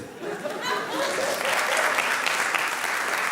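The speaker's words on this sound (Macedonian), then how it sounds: "аплауз." Audience applause at a Macedonian stand-up comedy show, a dense steady wash of clapping that swells after the first half-second and holds loud through the end.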